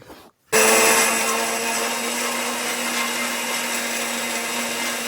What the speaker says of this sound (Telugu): ఈ మూడింటిని కూడా మిక్సీ పట్టేసుకుంటున్నాను